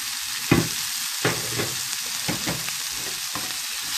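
Garlic with curry powder, black pepper and herbes de Provence being stirred in a hot pan, a steady sizzle broken by several distinct scraping strokes of the spoon, with no talking.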